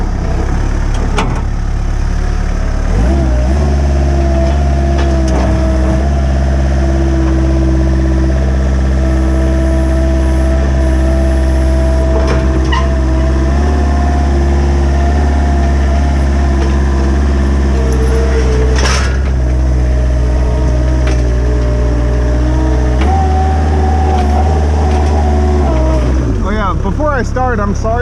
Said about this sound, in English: Alrighty, so I got the forklift started up.